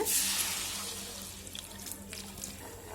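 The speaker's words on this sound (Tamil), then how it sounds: "மாங்காய் வேகிறதுக்கு தேவையான அளவு தண்ணி ஊற்றிக்குங்க." Water pours steadily into a pan of mango pieces close by, a soft continuous splashing that gradually quiets over a few seconds.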